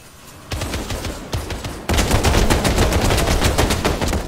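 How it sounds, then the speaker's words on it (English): Rapid bursts of automatic gunfire from an enemy team in the Final Fantasy VII The First Soldier battle royale game, starting as scattered volleys and then building into a loud, sustained stream of shots with no talking. "Hey, someone just shot at me."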